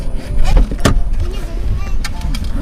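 An electric car window motors shut with a steady whirring hum, accompanied by low rumbling and a few sharp clicks, while people talk nearby inside the vehicle.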